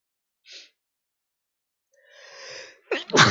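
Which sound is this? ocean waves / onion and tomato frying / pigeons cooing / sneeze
sneeze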